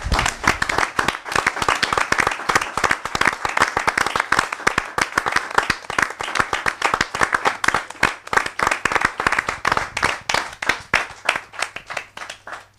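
A church congregation applauds with sustained, dense clapping that continues strongly for several seconds before gradually thinning out.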